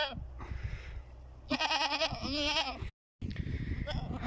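Goats bleat repeatedly at close range in a farm setting in Samarkand, with strong harmonic cries at the center of the clip, a brief silent gap, then more bleating over low background noise.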